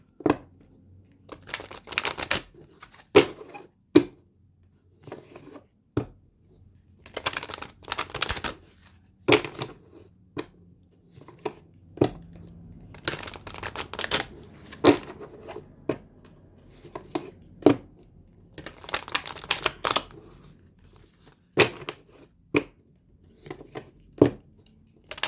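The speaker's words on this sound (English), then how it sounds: "I'm now going to be pulling some cards to see what we can expect, and I'm going to be using the Moonology deck." A Moonology oracle deck is shuffled by hand in repeated crisp bursts of riffling and flicking cards, close and clear. Quiet pauses separate each round.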